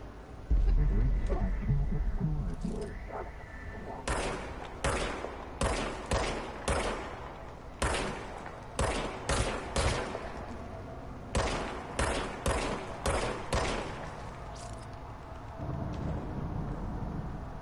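Service weapon firing in the video game Control, a series of sharp gunshots in irregular bursts and spaced clusters over a low background hum, loud and close with no talking.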